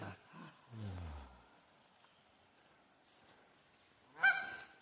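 A goose honking in a river gorge on the upper Red River, a few harsh honks at the start and a loud close call near the end, with quiet stretches between.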